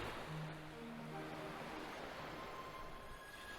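Water in the visual novel Scarlet Fate: Fragments of The Past makes a steady wash like surf or flowing water, continuous and fairly soft, with no voices.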